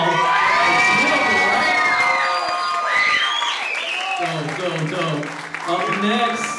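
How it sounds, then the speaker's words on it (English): A concert crowd cheers, whoops and shouts after a rock band finishes its set, with applause mixed into a loud, sustained roar that dips briefly before swelling again, voices calling out throughout. "applaud you all."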